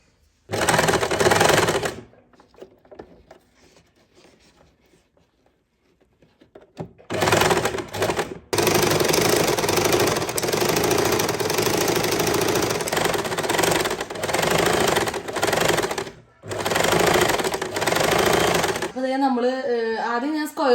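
A sewing machine stitches palazzo pant fabric, running in long, loud, even mechanical bursts broken by short pauses, close by. A voice talks briefly near the end.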